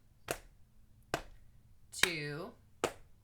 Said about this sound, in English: So that's the pattern, that clap, pat, pat.